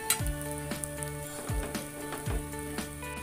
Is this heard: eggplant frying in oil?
yes